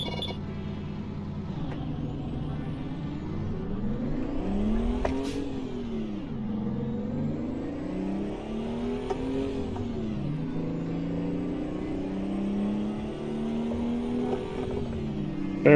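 A 270-horsepower truck engine in American Truck Simulator, driven on a snowy route, drones loud and steady, its pitch swelling and falling with gear changes throughout, alone without talk.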